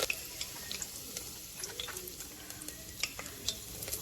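Hot oil sizzles softly in a pan as mustard seeds are tempered for chutneys, with scattered light crackles and pops over a low, steady fizz and no talking.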